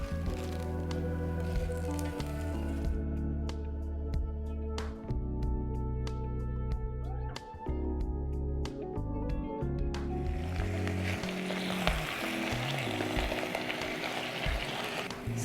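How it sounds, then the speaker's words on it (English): Cashews and then spinach fry in oil in a pan, giving a close, continuous sizzle with scattered crackles and sharp clicks of a utensil against the pan, the sizzling growing brighter and denser toward the end. "First I am going to add cashews and let it fry in the oil. Then I will add spinach in that."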